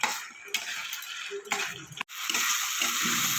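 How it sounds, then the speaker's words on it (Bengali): Spices stir-fried in a pan with a little water, meant for a jackfruit and prawn curry: soft wet sizzling and hissing broken by short scraping strokes of a spatula, close and fairly quiet, with no talk. "একটু সামান্য জল দেবো যাতে মশলা না পুড়ে যায়। দিয়ে এবার ভালো করে এটাকে সমস্ত মশলাগুলোকে কষিয়ে নেব।"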